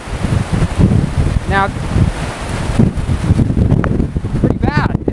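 Strong, gusty wind at an RV park, sustained around 20 mph with gusts to 27, roars and buffets the microphone in a loud, rumbling rush, with a voice saying a single brief word.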